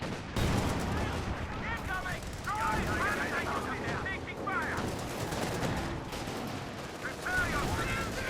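Dense, continuous gunfire from a Company of Heroes 2 battle, with rapid overlapping shots and bursts rattling throughout, while someone talks quietly over the top.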